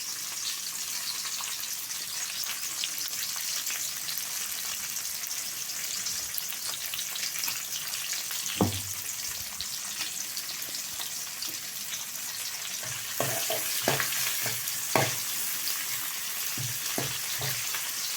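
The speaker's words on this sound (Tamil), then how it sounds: "இதுக்கு தாளிக்கும் போது ஒரு பெரிய வெங்காயம் நறுக்கி போட்டுங்க." Steady, dense sizzling of chopped onion frying in hot oil throughout, with a few sharper clinks and stirring knocks toward the end.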